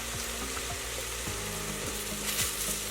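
Diced apples with salt, cinnamon, brown sugar and lemon juice sizzle over medium heat for an apple tart filling, a steady close bubbling and crackling with no talk.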